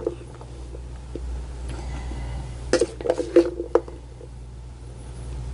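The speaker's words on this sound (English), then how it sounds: "Let me just spoon that out on your plate real nice." Panzanella salad of bread and vegetables spooned onto a plate, giving a short cluster of soft clinks and wet scrapes near the middle, over a quiet room hum.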